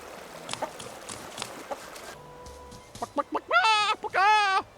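Clucking in a video game cutscene, a few short clucks followed by louder, drawn-out chicken-like calls at the end, made by an old man imitating the bird.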